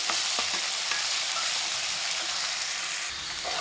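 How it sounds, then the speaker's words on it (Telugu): Ginger paste frying in oil while being stirred for a fish curry, a loud dense hiss of sizzling that runs steadily throughout, with faint stirring scrapes underneath. "అల్లం పేస్ట్ ఆయిల్లో బాగా కలర్ మారాలన్నమాట"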